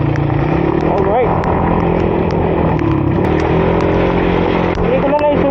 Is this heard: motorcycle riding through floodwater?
yes